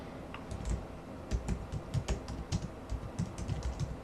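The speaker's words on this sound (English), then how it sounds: "It's a lot of typing when you're doing this." Rapid irregular clicking of keys on a computer keyboard, close up and continuous, with no voices.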